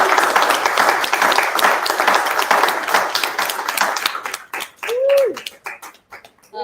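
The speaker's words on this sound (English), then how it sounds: "let's give Mike a round of applause" Audience applause for a presenter named Mike closing a talk on American crocodiles at Turkey Point, dense clapping that thins out toward the end, with a brief voice near the finish.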